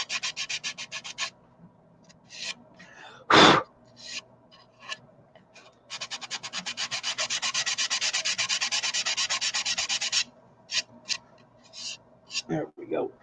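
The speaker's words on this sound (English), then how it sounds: "I'm going to do it by hand. It's like the sandpaper is just melting through this stuff." Sandpaper worked by hand against a turned piece produces raspy rubbing strokes, first in short bursts and then in a long continuous stretch, close and fairly quiet, with one louder knock partway through.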